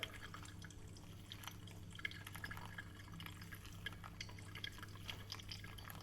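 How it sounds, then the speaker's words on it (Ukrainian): Water dripping slowly through ground coffee in a Hario Switch brewer during a pour-over, faint soft drips and trickling over a low steady background hum. "Якщо ви бачите, водичка в нас протікає."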